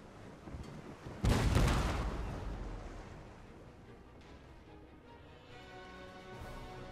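Musket and artillery exchange in the strategy game Napoleon: Total War, a heavy booming volley followed by a long rumbling decay, with faint scattered distant shots before and after.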